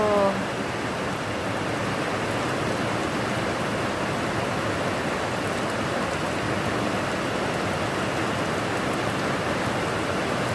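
Rain falls in a steady, loud, even hiss that fills the whole stretch without letting up.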